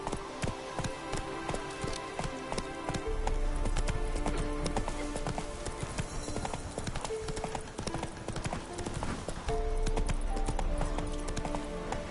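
Horse hooves clip-clop steadily on the ground in The Witcher 3, a continuous rhythmic trot heard up close over game music and ambience.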